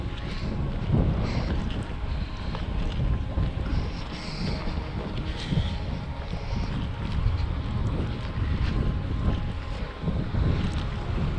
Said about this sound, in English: if not a bit windy.